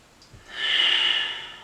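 A single long, airy breath sounds close up during a deep yoga hip stretch into full splits, swelling smoothly and then fading out.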